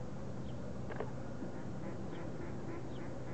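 Mallard ducks on water near a swimming sparrow, a few soft quacks scattered over a faint, steady outdoor background.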